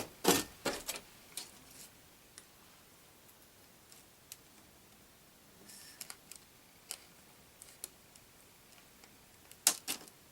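A small styrene piece is cut by hand for a model engine house door, giving faint, sparse snips and clicks scattered over quiet background.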